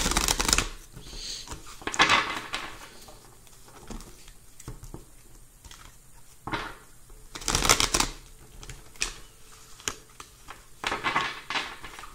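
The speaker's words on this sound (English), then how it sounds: "I'm going to be shuffling the cards and thinking of the energies for today" Tarot cards being shuffled by hand, close and crisp, in repeated bursts of riffling and patter separated by short quiet gaps.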